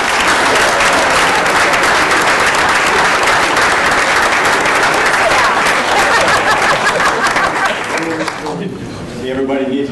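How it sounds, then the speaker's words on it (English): Loud applause from reunion attendees for a list of classmates, a dense sustained burst of clapping that fades near the end as a voice begins speaking. "Let's have a round of applause."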